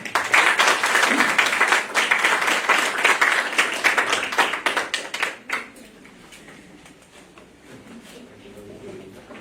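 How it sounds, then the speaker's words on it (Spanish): Loud, dense applause from a crowd fills the first five and a half seconds, then drops away abruptly to quiet room tone. "Aplausos para él"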